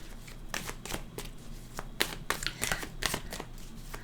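Tarot cards being shuffled by hand, a steady run of crisp riffling flutters and slaps, close and continuous for several seconds.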